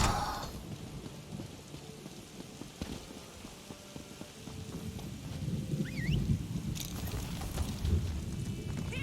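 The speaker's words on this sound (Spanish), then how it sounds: "Está lloviendo." Steady rain patters down inside The Elder Scrolls Online in the High Isle region, with a dense, even hiss interrupted by a few brief clicks and soft game sounds, and no talk over it.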